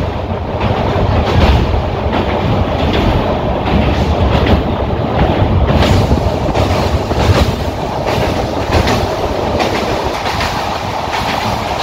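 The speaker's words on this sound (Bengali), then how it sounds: "ট্রেন খুব সুন্দর চলছে এখন পর্যন্ত" The Tamralipta Express runs from Digha toward Howrah, heard from inside the carriage as a loud, steady rumble with rhythmic clickety-clack of wheels over rail joints, continuous and close throughout, with no voices.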